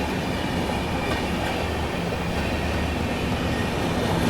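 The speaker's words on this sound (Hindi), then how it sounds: "गाजियाबाद शेड का वेब 7। महाराष्ट्र संपर्क क्रांति एक्सप्रेस, इंडिया फास्टेस्ट संपर्क क्रांति" The Maharashtra Sampark Kranti Express from Bandra Terminus to Hazrat Nizamuddin, hauled by a Ghaziabad-shed WAP-7 electric locomotive, rushes past close by with a dense, continuous roar of wheels and carriages and faint clickety-clack throughout.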